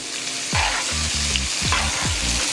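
Lamb chops fry hard in a pan of garlic butter, a loud steady sizzle with a few thumping strokes as the butter is spooned over the meat, no speech.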